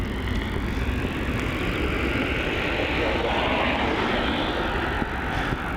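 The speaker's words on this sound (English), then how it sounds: "On departure there we have a Qantas flight QF 610 off to Brisbane." A Qantas jet airliner departing Melbourne Airport gives off a continuous, moderately distant engine roar, steady throughout with a broad rumbling rush.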